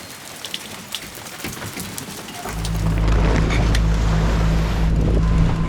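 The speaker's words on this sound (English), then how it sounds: "It's starting to really hail outside." Hail starts pelting a sailboat, a sudden dense rattling downpour that swells loud partway through and continues over the low steady hum of the boat's engine.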